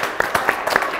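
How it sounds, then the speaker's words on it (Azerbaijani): A studio audience claps for a guest on an Azerbaijani talk show, with a brief burst of close, uneven hand claps and no voices over it. "Bu alqışlar sənin üçündür."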